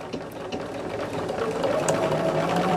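A sewing machine stitches steadily along a seam at close range, a continuous mechanical whir with fine rapid clicking, running alone without talk.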